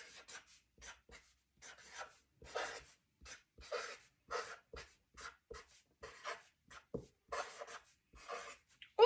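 A marker squeaks and rubs across a board in short separate strokes, close but faint, with quiet pauses between the strokes and no talking.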